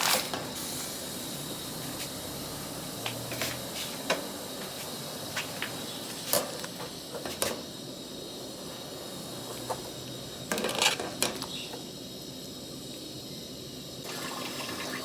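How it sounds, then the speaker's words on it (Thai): Fish balls go into a pot of boiling water to blanch, giving faint bubbling with scattered soft plops, taps and clicks near the pot in a quiet kitchen. "น้ำของเราเดือดแล้วนะคะ เดี๋ยวเราจะเอาลูกชิ้นปลาของเราลงไปลวกเลย"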